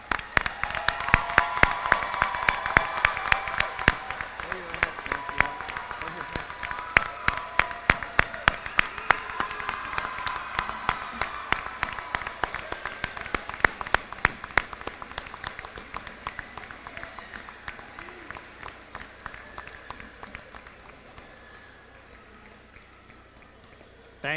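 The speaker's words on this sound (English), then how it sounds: "Please join me in congratulating them with a rousing round of applause." Audience at a 2025 high school graduation ceremony applauding the graduating class, a large crowd's sustained clapping that starts loud and dense and gradually thins and fades, heard from a distance in a big hall.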